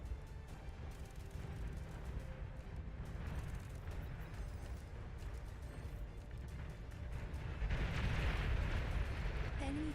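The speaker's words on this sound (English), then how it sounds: "The artillery be shelling." Artillery shelling in the strategy game Beyond All Reason: a constant low rumble of distant impacts and blasts that swells louder near the end, with faint game chatter underneath.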